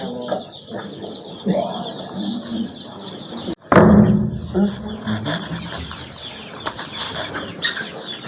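Chicks in a poultry brooding house at a rural training centre in Togo make a busy chorus of peeping and clucking, with a sudden loud burst of wing flapping midway, close and lively throughout.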